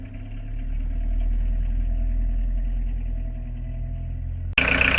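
A car engine idles with a steady low rumble before the driver sets off, ending in an abrupt loud burst of noise.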